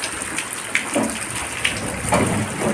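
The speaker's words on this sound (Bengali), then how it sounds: "আর ঝমঝম করে বৃষ্টি পড়ছে" Steady rain hisses close by, with occasional louder splashes and gushes breaking through the wash of water.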